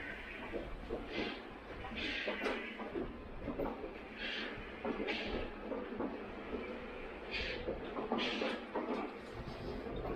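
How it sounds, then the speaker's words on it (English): Rumbling train passing near Cave Lake State Park, Ely, Nevada, with rhythmic clicking and clattering of wheels, steady and moderately loud throughout, with bursts of higher rattling. "It was quite amusing spending some time here watching the train come and go"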